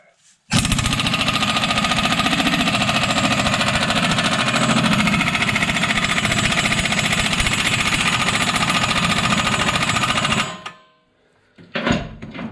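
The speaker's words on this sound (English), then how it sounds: "My compressor may kick in and make some noise" An air compressor in a home garage kicks on and runs loud and steady for about ten seconds, a constant mechanical drone, then cuts off abruptly, followed by a brief clatter.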